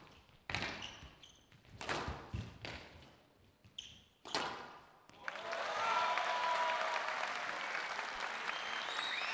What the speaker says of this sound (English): There's quite a bit of appreciation there coming from the crowd